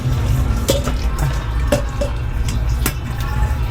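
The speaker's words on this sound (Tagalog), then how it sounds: "Ngayon, i-drain na natin yung pasta." Cooked instant pasta is drained, with water splashing and dripping in uneven bursts and a few sharp clinks over a low rushing background, close and fairly loud.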